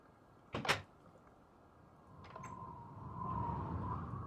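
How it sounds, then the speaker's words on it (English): A door opens in a Minecraft-style video game, a short wooden clack followed by a later creak, faint over a low humming background that slowly grows. "Let me through the door."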